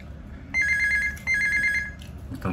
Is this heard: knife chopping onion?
no